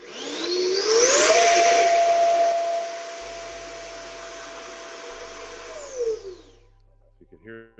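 A small electric RC car motor whines at full throttle, its pitch sweeping up to a high steady tone, holding there, then winding down, with a brief voice at the end.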